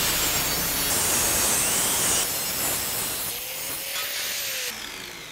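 A factory dust shield for a Jeep Wrangler brake install is cut with a grinder, giving a loud continuous abrasive hiss and whine that shifts in tone as the tool works the metal, with no talk.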